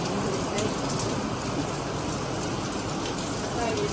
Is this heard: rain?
yes